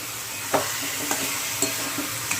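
Vegetables and spices in a pan hiss under a steady sizzle, with a regular series of spoon scrapes about every half second stirring them, close and without voices.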